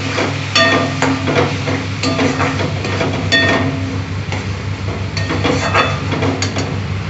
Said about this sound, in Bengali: তারপর আমি মশলাটা একটু কষিয়ে নিচ্ছি